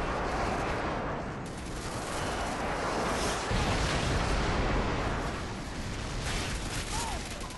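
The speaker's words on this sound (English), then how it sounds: "Friendly airstrike inbound." Airstrike explosions and gunfire from Call of Duty Modern Warfare 2 form a loud, dense, continuous roar of blasts and rattling shots, with a voice faintly present beneath the barrage.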